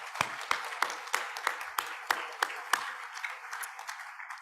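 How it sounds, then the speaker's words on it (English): Audience applause at a mental health symposium, a steady crowd of clapping with sharp regular peaks over a dense wash, moderately loud and fading slightly toward the end, with no talk over it. "can you just one more round of applause for Meredith and Steph."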